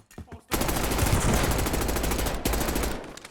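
Warzone gunfire: a few brief taps, then a loud rapid burst of automatic fire rolling without pause for nearly three seconds, close and harsh, with a brief break before trailing off.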